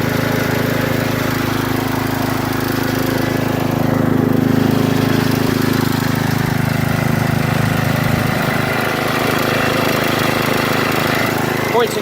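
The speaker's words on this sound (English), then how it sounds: "one of the most reliable small engines ever built right here" A 1968 John Deere 110 small engine running at a steady loud drone with a constant buzzing hum, close and unchanging throughout, with a voice faintly present under the noise.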